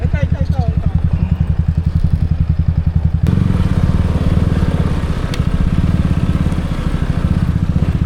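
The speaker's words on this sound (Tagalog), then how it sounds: "Parang di kaya ng motor ko to." A motorcycle engine labours loudly and close on a steep, deep dirt trail, pulsing in a rapid, rough chug with clattering, while riders talk over it.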